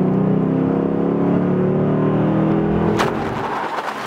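A Lexus GS F sports sedan engine in Sport S Plus mode drones and revs loudly up close, then a sharp burst and the note drops away as it settles.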